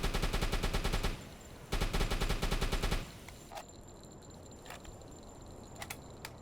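A submarine deck gun in UBOAT fires on a ship in two rapid, loud bursts of evenly spaced shots, then falls quiet apart from a few scattered distant impacts and clanks.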